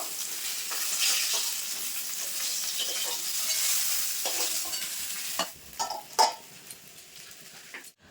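Rohu fish sizzles loudly in hot oil, the hiss easing toward the end as a few utensil scrapes and taps stir the pan.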